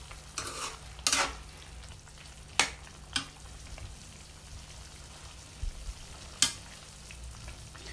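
Capsicum gravy being stirred with salt in a pan: a soft, steady sizzle runs throughout, broken by a few sharp scraping clicks of the spoon against the pan.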